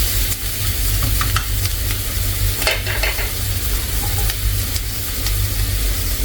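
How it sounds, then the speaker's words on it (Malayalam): Onions and salt sautéing in a hot pan, a steady close sizzle and hiss throughout with occasional scrapes and stirring clicks of a spoon, no talking. "ഞാൻ ഉപ്പും കൂടെ ഇട്ടിട്ട് നന്നായി വഴച്ചെടുക്കുന്നുണ്ട്"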